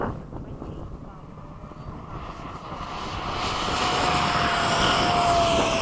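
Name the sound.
F-16 fighter jet flying in formation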